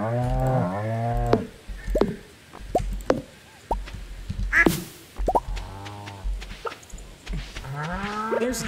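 Cartoonish cows moo repeatedly on a farm in the Stardew Valley video game, several loud, clear calls interspersed with small plops and clicks of game effects.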